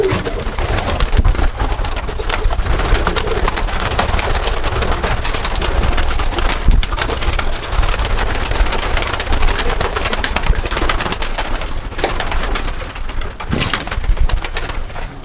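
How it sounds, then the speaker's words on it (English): Pigeons cooing in a backyard loft in West Sayville, low soft coos repeating over a steady wash of wing flutter and outdoor noise, fairly close, with no talking. "The pigeons. Yes, we fly the pigeons."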